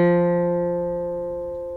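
Guitar notes played as a melodic interval ring out clearly and alone, the tone sustaining and slowly fading over under two seconds.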